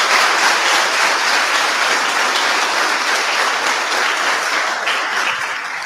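A church congregation applauds God during a Sunday celebration service, giving steady, dense clapping that holds loud throughout and tapers slightly at the end.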